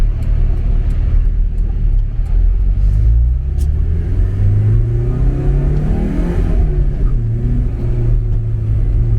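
A stock 1982 Porsche 944 revs up hard and accelerates, a loud throaty roar with rising pitch that climbs steadily, close and continuous with no voices.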